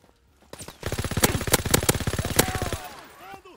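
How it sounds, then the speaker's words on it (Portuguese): Automatic gunfire from the video game Call of Duty WWII comes as one sustained rapid burst of sharp, evenly spaced shots lasting about two seconds, loud and close, then it cuts off. "Caraca, mano, muito tiro."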